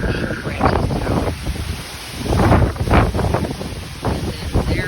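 Strong Hurricane Beryl winds hit the microphone in uneven bursts, loud gusty buffeting that rises and falls every second or two outdoors.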